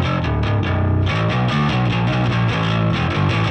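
Distorted bass guitar through a Marshall amp plugin emulation, a gritty, dirty tone with a heavy lower midrange, played as a steady run of loud, sustained notes with no voices.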